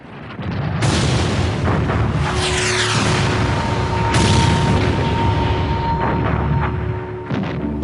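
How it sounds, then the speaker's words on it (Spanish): Loud, rumbling wartime explosions from the Battle of Caen booming one after another, with heavy low thuds and bursts of debris over a continuous roar. "Pero de pronto empezaron las explosiones."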